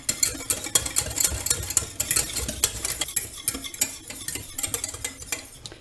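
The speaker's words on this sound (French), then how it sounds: "À froid, on va déjà mélanger cette préparation afin que ça ne fasse pas de grumeaux" A spoon or whisk stirs raspberry juice, sugar and cornstarch cold in a small saucepan, producing rapid, close clinking and scraping strokes against the metal in a steady, busy rhythm with no talk.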